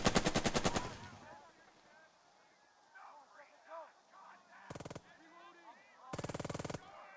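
Rapid machine-gun bursts rattle out in the wartime strategy game Burden of Command: a loud volley at the start, then two more sharp bursts later, with softer battlefield sounds and faint voices in between.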